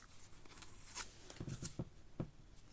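A deck of cards shuffled in a few soft, quick riffling bursts, quiet and close, with no talking.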